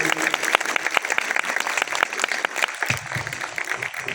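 A church congregation at a sermon breaks into strong applause, a dense spread of sharp hand claps that swells and then thins slightly toward the end, with a voice speaking faintly beneath it.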